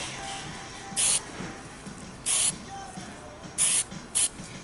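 Short hissing bursts from an aerosol can of spray adhesive, applied around the edges of chair seat foam, four quick sprays spaced unevenly, close and fairly loud against a quiet room.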